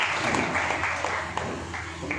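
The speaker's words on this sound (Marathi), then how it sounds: "अपूर्वासाठी जोरदार टाळ्या वाजवा" A crowd at a class results felicitation applauds a student, with a dense, steady patter of clapping from a gathered audience that fades slightly toward the end.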